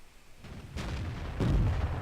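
AMX 13 tank gun firing in World of Tanks, heavy booming blasts with a deep rumble, the loudest shot arriving near the end, close and without talk.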